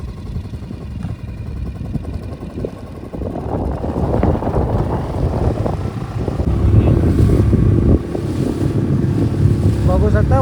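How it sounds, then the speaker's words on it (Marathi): Big sea waves surge around a small fishing boat at sea in stormy weather off the coast, a roaring wash that swells louder midway, mixed with heavy wind buffeting the microphone. "बघू शकते कसल्या मोठ्या लाटा येतात एकदा."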